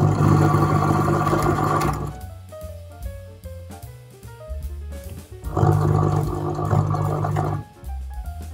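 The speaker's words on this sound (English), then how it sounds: "We're going to stitch about 1 millimeter to 2 millimeters away from the seam." Sewing machine stitching a seam on a linen face mask, running in two loud sustained bursts with a steady motor whir, separated by a quieter pause with soft handling sounds.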